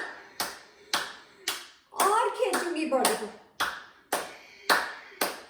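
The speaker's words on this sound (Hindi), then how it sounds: "अब हम एकदम आराम से नॉर्मल जो हम ताली बजाते हैं वो बजाएंगे" Hand yoga session: a single person claps in a steady rhythm, roughly one sharp clap every half second, with a short stretch of a woman's instructional speech over the clapping in the middle. Close, clear and dry.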